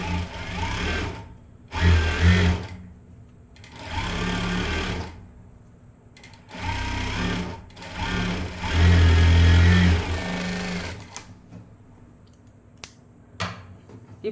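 A sewing machine stitches the side seam of a blouse after the sleeve is attached, running in four or five loud mechanical bursts of a few seconds each, with quiet pauses and faint handling clicks between them.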